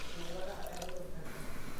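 Tamarind water, made from a lemon-sized lump of tamarind for a wedding-style South Indian rasam, pours into a cooking vessel with a soft, brief liquid splash and trickle.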